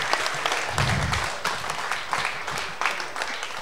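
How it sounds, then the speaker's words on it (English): An audience applauds a contestant in a clap-off, a dense burst of crowd clapping with a few sharp individual claps standing out, steady and fairly loud throughout. "Everyone give a round of applause, please, for Mark Grimshaw."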